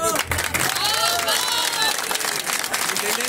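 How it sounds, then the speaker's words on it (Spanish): Applause and crowd noise for Javier Martínez after an election win, at a gathering of supporters. Clapping and a mix of voices run under close, overlapping talk and some shouts, loud and continuous throughout. "Una para el aplauso, Javier."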